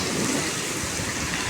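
Dense rain falls hard in a Dubai thunderstorm, giving a uniform, unbroken hiss of water striking surfaces nearby, alone and constant for the brief moment.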